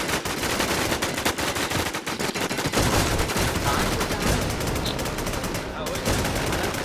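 Dense in-game gunfire from the online zombie survival shooter WarZ, with rapid overlapping shots filling the whole stretch as players fire on each other, loud and constant, with faint voices mixed underneath.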